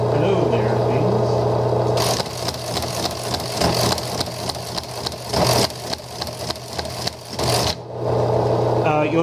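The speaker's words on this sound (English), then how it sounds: "Sent a line feed and a enter there, so return the carriage." A Teletype Model 15 printer clatters through a line feed and carriage return, a dense burst of rapid mechanical chattering and thumps over a steady motor hum, set between stretches of quieter running.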